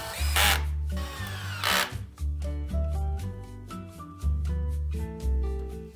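Power tool cutting a wooden window sill bracket for a plasterboard stud frame, several loud bursts of motor whine and grinding separated by short pauses, close and without speech.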